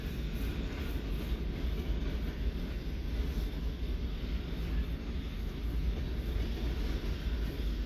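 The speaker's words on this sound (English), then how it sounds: "this train is also coming out of where the fueling racks are for the eastbound trains and or southbound trains" A train moving out of the fueling racks at a rail yard near Missouri Valley, Iowa, giving a steady, broadband rumble and rolling wheel noise at moderate distance, continuous with no voices.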